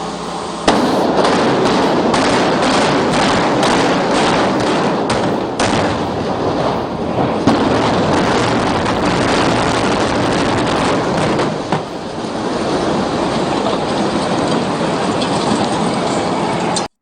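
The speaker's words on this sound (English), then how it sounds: "This is sometimes how a building's life ends, right? With a big implosion." A building demolition implosion, with a loud, dense roar of cracking and rumbling that runs unbroken for about seventeen seconds, punctuated by sharp bangs early on.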